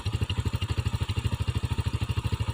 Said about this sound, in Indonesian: kita coba untuk kick, starternya langsung hidup.